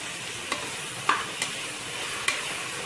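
Onion, tomato, green chili, coriander and mint are stirred in a sizzling pan for chicken biryani, a soft frying hiss broken by four sharp spoon scrapes and taps against the pan.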